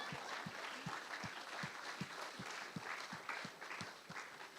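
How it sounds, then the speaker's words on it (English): Audience applause with a steady rhythmic beat of clapping, sustained and somewhat distant, evenly spread throughout. "Big up round of applause for it"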